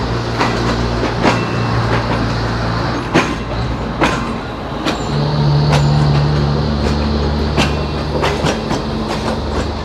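The Islamabad Express passenger train rolls into Lahore Junction, a continuous rumble of railcars with rhythmic wheel clicks over rail joints and brief squeals, loud and close with no speech.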